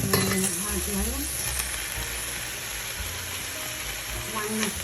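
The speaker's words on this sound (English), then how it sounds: "One medium white onion, and I'm using coconut oil, organic coconut oil to saute." Chopped white onion sautés in organic coconut oil, a constant dense sizzle and crackle that holds steady throughout, with faint music and a hint of voice beneath it.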